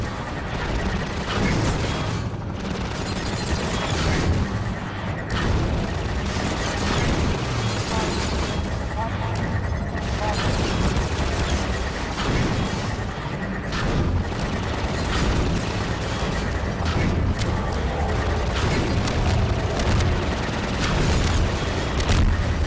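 In Half-Life 2, a battle against two gunships brings loud, dense gunfire and repeated booming explosions, a continuous barrage with no letup.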